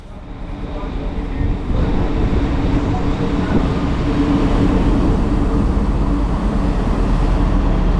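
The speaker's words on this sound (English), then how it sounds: "here we can see my train, a Lint 27, a quite rare little train" A Lint 27 diesel multiple unit train rumbles steadily nearby with a continuous low engine drone and rolling noise that builds slightly at the start and then holds.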